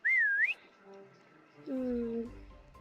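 Someone whistles while playing a Roblox hide-and-seek game: a short, clear, wavering whistle, then a lower sustained tone after a quiet gap, with faint background sound.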